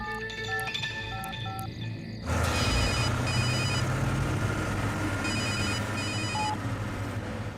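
A telephone rings with repeated electronic trilling bursts over a loud, dense movie soundtrack, the rings standing out clearly in a tense scene with no speech.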